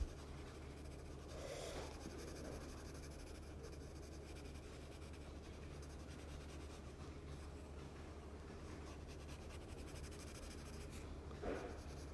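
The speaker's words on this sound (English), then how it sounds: "So I'm now going to colour it in, shade it in, round the eyes." Pencil scratching and shading across paper while colouring in a Batman drawing, a soft continuous rubbing close up with faint background hum.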